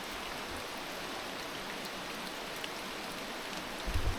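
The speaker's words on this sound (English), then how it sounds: "I don't know if you guys can hear the rain right now, but it's raining pretty good." Steady rain pours down in a continuous broadband hiss, with a faint low thump near the end.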